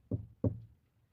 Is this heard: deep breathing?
no